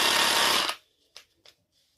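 A Vitals Professional ATz 1825Pp cordless reciprocating saw runs with a loud, close, buzzing whine, then is switched off and stops abruptly, followed by a couple of faint clicks.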